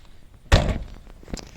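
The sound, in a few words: car door closing on a 1991 Ford Probe GT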